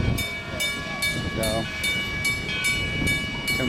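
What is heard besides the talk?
steam train coming into the station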